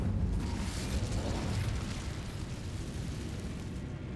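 The Incendio fire spell in Hogwarts Legacy bursts out as a loud, rumbling whoosh of flame that holds steady and fades slightly over a few seconds, with no voices.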